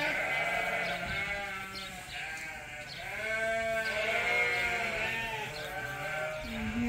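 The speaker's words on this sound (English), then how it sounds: "And here's the Suffolks all eating with their wool off." Shorn Suffolk sheep at a feeder bleat repeatedly, several overlapping loud, wavering calls from a flock close by, over steady outdoor background noise.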